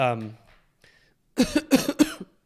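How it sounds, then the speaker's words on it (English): Three quick, harsh coughs in a burst, close by, following a few spoken words and a short pause. "I apologize for all the coughing"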